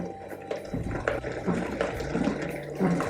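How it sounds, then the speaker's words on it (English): Water pours into a blender for Thai curry noodles, a steady close splashing stream lasting a few seconds with no talking. "I'm gonna put another half a cup of water here"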